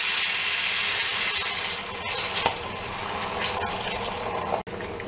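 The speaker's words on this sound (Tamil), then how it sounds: "இந்த உருளைக்கிழங்கு கொஞ்சம் வதக்கிட்டு இதில் ஒரு 1/2 கப் தண்ணி விட்டு இந்த காயை ஒரு 2 நிமிஷம் வேக விடலாம்." Half a cup of water poured onto sautéed potatoes in a hot pan for tiffin sambar, making a steady close hiss and sizzle for about five seconds with a brief dip near the end.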